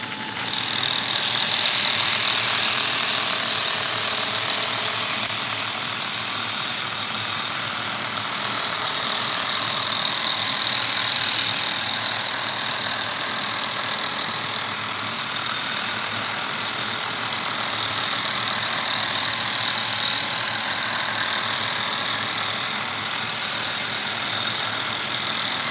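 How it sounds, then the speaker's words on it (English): A power sander turned all the way down runs at low speed with light pressure, sanding a piece to a polish; its loud, steady whirring hiss continues unbroken throughout with no talking. "we're going to sand this next one all the way to polish"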